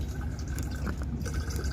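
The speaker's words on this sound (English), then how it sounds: "It's just trickling out." Water trickles slowly out of a squeezed bottle, a soft, close, uneven stream of small drips and gurgles heard alone.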